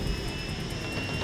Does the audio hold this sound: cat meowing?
no